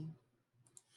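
Two quick mouse clicks on a computer while selecting a point in GeoGebra geometry software, soft and close, with a short pause between them and quiet room tone around them.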